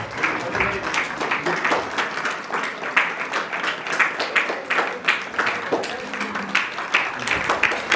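An audience at a church gathering claps steadily in sustained applause for a priest, a dense, even patter of many hands with no break.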